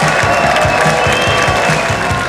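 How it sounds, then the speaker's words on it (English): A comedy club audience applauds a stand-up comedian arriving on stage in Baltimore, with dense, loud, sustained clapping and a few cheers filling the whole stretch close up. "Start clapping up right now for my good friend, Baltimore's very own Umar Khan, everybody."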